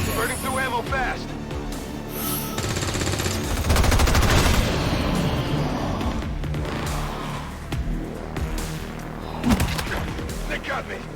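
Gunfire in the video game XCOM 2, with bursts of shots and booms layered over a busy battle soundscape while voices talk over the action.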